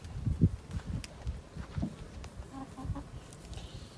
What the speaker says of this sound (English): These are my chickens, and this is their egg that they laid.